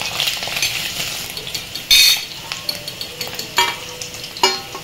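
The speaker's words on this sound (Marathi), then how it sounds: "सोनेरी रंगावरती आपण हे असे थोडेसे फ्राय करून घेऊ" Paneer frying in oil in a pan, a steady sizzle with a few sharp clinks of a utensil against the pan, close up.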